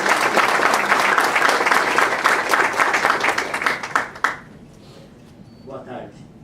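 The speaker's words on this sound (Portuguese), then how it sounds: "E uma salva de palmas aí" An audience at a public hearing applauds with loud, dense clapping for about four seconds, then the applause tapers off and a voice speaks briefly in the quieter room.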